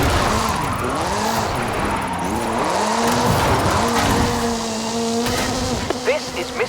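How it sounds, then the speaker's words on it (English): The Hoonigan Gymkhana 10 Ford Focus RS RX, a 2-litre turbocharged all-wheel-drive rally car in Forza Horizon 5, revs and slides with sweeping engine pitch changes and tire squeal, loud and continuous. "This is Mr. Kenneth Block's Hoonigan Gymkhana 10 Ford Focus RS RX"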